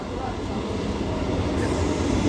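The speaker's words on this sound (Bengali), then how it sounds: "এই ট্রেনটা সোনারপুর লোকাল" A Sonarpur local passenger train rumbles past close by, a steady loud low roar of rail wagons with constant rolling noise throughout.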